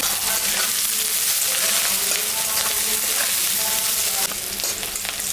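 Raw onion fries in oil tempered with cumin and dried red chilli, giving a loud, dense, continuous sizzle up close that holds steady and eases slightly at the very end.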